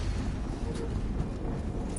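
A deep, rumbling explosion from the video game Horizon Zero Dawn, a dense continuous low boom filling the whole stretch with steady loudness and no distinct separate blasts.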